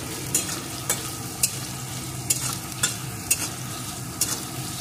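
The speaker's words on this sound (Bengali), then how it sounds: "এখন বেশ কিছুক্ষণ এইভাবে নাড়িয়ে নেব" Chopped tomato with salt sizzles in a hot pan under a steady low hiss. A utensil scrapes the pan in regular sharp strokes about once every half second, close and clear, with no one talking.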